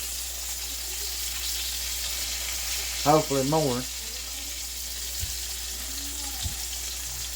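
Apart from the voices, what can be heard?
Cajun pork chops sizzling as they are flipped in a pan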